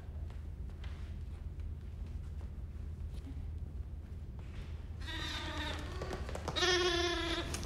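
A sheep on a film set bleats twice near the end, loud wavering cries heard close over a steady low background hum, after a quieter stretch with no talk.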